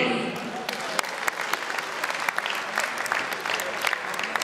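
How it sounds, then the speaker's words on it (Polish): An audience at a boxing gala applauds, dense continuous clapping with distinct sharp claps standing out, loud and close, with a voice briefly heard at the start. "Wielkie brawa dla"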